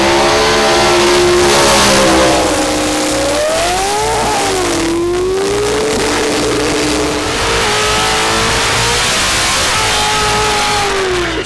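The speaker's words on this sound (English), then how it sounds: "Today I want to teach you how to do a burnout." A car doing a tire burnout at a drag strip, its engine roaring loud and sustained with rising and falling revs over a constant harsh rush of spinning tires.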